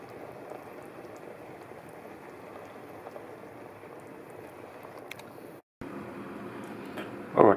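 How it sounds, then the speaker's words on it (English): Pumpkin soup for a Thai-style recipe bubbles steadily in a pot, a soft continuous simmering hiss with small pops, a brief dropout near the end and a louder clatter right at the close. "I'll get it to a boil, get it down to a simmer"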